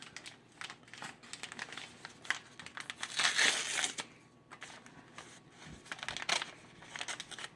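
A store-brand cake mix bag is pinched and torn open close by, giving bursts of crinkling and crackling plastic that rise to a loud tearing rip midway, then more rustling handling, with no voices.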